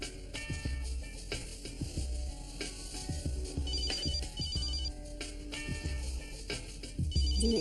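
A telephone rings in a quiet room, its electronic trill repeating in short bursts over faint mechanical clicking and rattling, with no voices during the rings.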